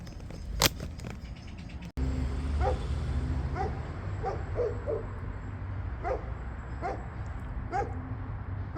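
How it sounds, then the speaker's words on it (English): A great big Alsatian barks from a distance in a town centre, giving a run of short, evenly spaced barks over a steady background hum, with a sharp knock near the start. "Remember the dog I mentioned about? Yeah, it's a great big Alsatian."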